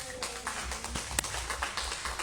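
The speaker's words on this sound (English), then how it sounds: "Round of applause for our interpreters." Audience at a school board candidate debate in Hammond claps for the interpreters, scattered hand claps at moderate distance, fairly faint and uneven.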